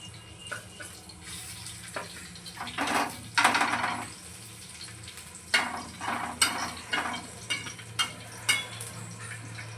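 Garlic sizzles softly in a pan as it browns for an okra dish, punctuated by scraping and stirring clatters of a utensil against the metal, close and fairly quiet.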